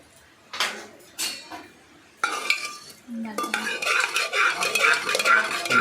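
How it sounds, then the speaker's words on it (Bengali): Dry rice and lentils tipped into a cooking pot for khichuri, giving a few scattered rattling pours followed by a denser, continuous clattering and rustle of grains against metal, close and moderately loud with no talk. "চাল ডাল দেবেন, হাঁড়ির মধ্যে দিয়ে ফুটাবেন।"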